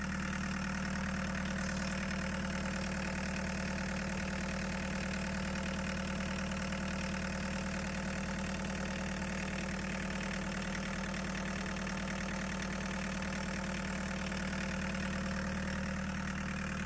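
A diesel engine swapped into a Chevy S10 pickup idles steadily and loudly up close, a constant low drone with a faint knocking texture and no talk.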